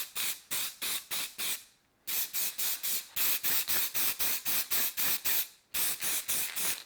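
Aerosol paint sprayed onto a sandblasted brake caliper from a Honda CB250 Super Dream motorcycle, in rapid repeated short bursts with a brief pause partway through, close and loud with no talking.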